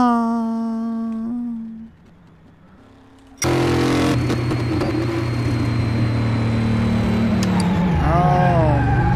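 A Tempest Magnum with a 4-speed gearbox in a driving game, its engine revving loudly and steadily after a brief drop, rising to a high pitch with gear shifts near the end.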